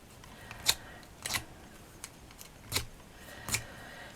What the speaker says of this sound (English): So you just put in the blade of the scissors underneath and do that.